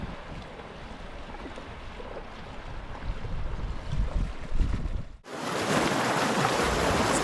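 A fast-flowing river being waded on foot while pushing a heavy bicycle across, a steady close rushing wash of water with buffeting wind noise that abruptly jumps louder near the end.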